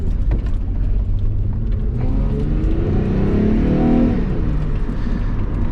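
A 2-litre V6 making 200 hp, paired with an automatic transmission, revs up with a deep swelling growl that rises and falls once, loud and close, with no voices.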